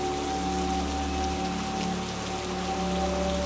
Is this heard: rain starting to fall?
yes